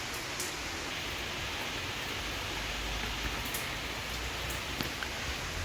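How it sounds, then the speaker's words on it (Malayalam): Heavy rain falls in a constant, even roar of dense patter. It sounds steady and enveloping, with faint occasional drips on top and no voices. "നല്ല മഴ"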